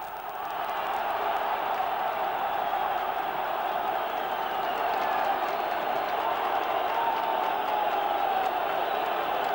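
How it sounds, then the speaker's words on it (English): A Bulgarian crowd roars steadily in a football stadium during a Euro 1988 qualifier against Ireland, a dense, continuous wall of cheering that holds at full volume throughout. "Bulgarian crowd on its feet."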